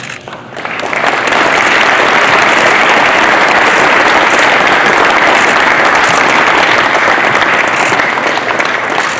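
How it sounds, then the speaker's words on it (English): An audience at a community college athletic hall of fame ceremony applauds an inductee, with dense, sustained clapping that swells within the first second and holds loud and steady to the end. "Y'all give him another round of applause and help him smile."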